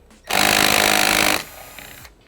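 A power tool, likely an impact wrench, removes a 10mm nut at the fuse box of a 2011-2014 Ford Mustang GT, one loud buzzing burst of about a second that then drops to a quieter hum.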